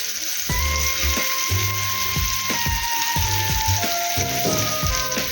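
Fish sizzles and spits steadily in a hot pan for a Kokan-style fish fry, a continuous close crackle with scattered pops and light clatters throughout.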